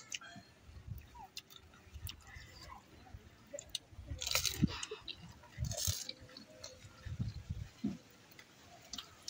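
Quiet crunching and chewing of pani puri (fuchka) during a blindfolded family eating challenge, soft irregular bites close by with faint background voices and small clicks.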